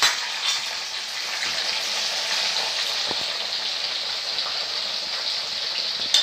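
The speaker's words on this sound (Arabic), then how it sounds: "هين عنا البصل والفليفلة بدنا نغليهن سوا." Onions and peppers frying together in a pan for an eggplant moussaka, a steady close sizzle with a bright crackling hiss throughout and a few small pops and stirring clicks, no one talking.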